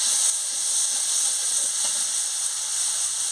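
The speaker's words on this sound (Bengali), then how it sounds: "পোস্ত বাটার জলটা দিয়ে ভালো করে আমি ভেজে নিচ্ছি।" Poppy seed paste with its water frying in a pan hisses and sizzles steadily, an even bright crackle with no voices over it.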